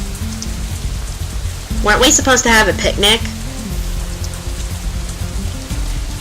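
Steady rain hiss falls outside in the visual novel Katawa Shoujo, a constant wash beneath soft background music, with a voice speaking briefly over it partway through.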